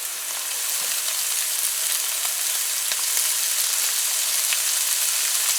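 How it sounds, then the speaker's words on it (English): Shrimp and pumpkin frying in hot oil, a steady close sizzle and crackle that holds evenly throughout with faint stirring clicks and no voices. "So we're gonna add our shrimp now."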